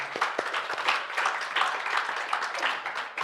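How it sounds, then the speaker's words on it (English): A church congregation claps in praise, a dense, steady patter of many hands filling the room for several seconds without pause. "Could we give a clap of praise to the Lord?"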